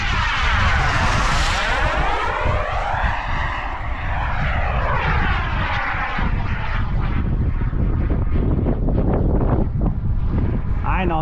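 A Global Jet Club Hummingbird RC model jet with an ACEx-80 turbine makes a low pass, a loud continuous jet roar whose pitch sweeps up and down as it approaches and recedes, with gusting wind buffeting the microphone throughout.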